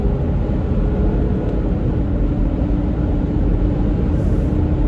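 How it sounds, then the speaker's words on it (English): Steady low rumble and broadband roar of wind and road noise inside a moving 2022 Subaru Forester Wilderness on a windy day, constant throughout with no voices. "more wind noise than anything right now because it's windy."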